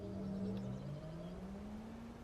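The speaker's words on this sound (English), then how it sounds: "I'm going to get the engine running." An electric taxi in the driving game Taxi Life powers up with a smooth, steady hum that rises gently in pitch, continuing for a couple of seconds at moderate loudness with no voices.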